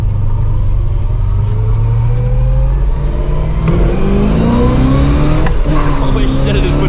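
A 1969 Chevelle Yenko tribute with a 427 V8 pulls hard on a country road, its engine roaring loud and close as the revs climb through a gear change.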